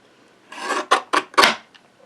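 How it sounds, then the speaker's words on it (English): Paper trimmer slicing cardstock for a handmade card: a short rasping scrape followed by three sharp, close cutting strokes in quick succession, then a faint click, with no talking. "I'm going to cut this one at 4 1/4 inches. That 4 1/4 inches is right here at the edge of this trimmer here."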